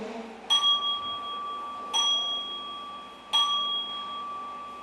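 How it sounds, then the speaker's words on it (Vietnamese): A Buddhist temple bell is struck three times at an even pace during a Pure Land dharma service, each clear metallic strike ringing out with a long sustained tone, moderately near. "Đại chúng đồng nghe tiếng chuông xá xuống ba xá cho nó đều."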